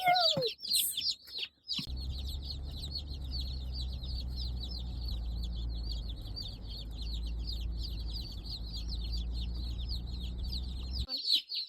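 Tiny baby chicks peep and cheep in a brooder, quick high chirps repeating almost continuously over a steady low hum of brooder equipment, close and fairly quiet throughout.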